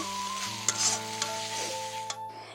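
Dried fish chutney cooking in a pan, a soft continuous sizzle with a few stirring scrapes against the metal, close and fairly quiet.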